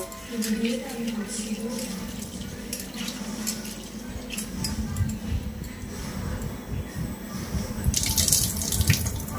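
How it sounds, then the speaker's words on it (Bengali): Chana dal lentils being washed under a running tap, a steady close rush of water splashing into a bowl with swishing and light clinks from the vessel, growing louder toward the end. "তো এখন আমি এই ডালটাকে ধুয়ে নেব।"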